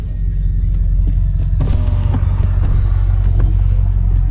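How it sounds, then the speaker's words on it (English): A BMW with straight pipes and open downpipes rumbles loudly at close range, a deep, steady exhaust drone with brief rises in engine pitch midway. "I'm running open downpipes right now on the car. So she's gonna sound a little different."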